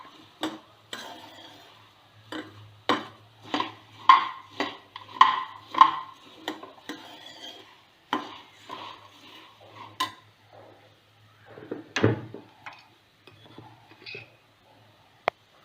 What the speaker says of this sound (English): Just have to mix it.